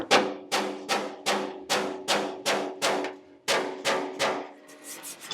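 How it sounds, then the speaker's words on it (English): A hand file scrapes over lead body solder on a car body panel in about eleven regular, forceful rasping strokes, close and loud, with a brief pause midway and no talk. "I peck and file any low spots"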